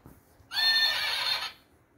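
A pony gives a single loud, bright whinny lasting about a second, close and on its own with no talking, in a children's farm animal setting.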